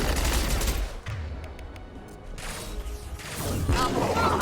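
Heavy gunfire in a sci-fi shooter, rapid rattling bursts and mechanical clatter, loud and dense, dipping briefly in the middle before intensifying again.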